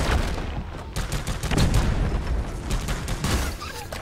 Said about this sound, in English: How'd that sentry gun get over there?